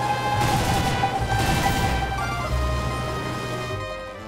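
Twin MG 151 20mm aircraft cannons fire in War Thunder, a dense continuous burst of rapid shots lasting several seconds, loud and close, with the rattle tapering off at the end.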